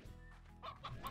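Chicken clucking in the video game Slime Rancher, a short burst of a few close, bright clucks over a steady low background hum, with no talking.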